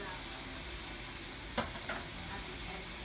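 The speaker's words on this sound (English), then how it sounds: "I'm just gonna mix them up." Vegetables for a seafood gumbo are stirred in a pot over a soft steady sizzle, with a single brief scrape of the spoon and a fainter second one near the middle.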